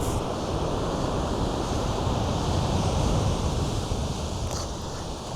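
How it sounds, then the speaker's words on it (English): Rough sea waves wash steadily along the shore of Hakodate Bay, a dense, constant surf roar mixed with wind noise on the microphone, holding an even loudness throughout with no voices. "The sea looks a bit rough, doesn't it?"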